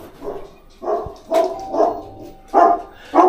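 A dog barks repeatedly at close range, a series of five or six sharp, evenly spaced woofs heard alone without talk.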